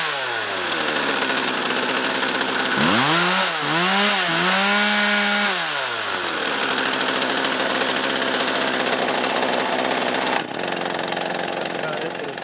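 An old Husqvarna 36 chainsaw idles a little high after a carburetor adjustment, then revs up in a few rising and falling bursts before settling back to a steady, loud running drone.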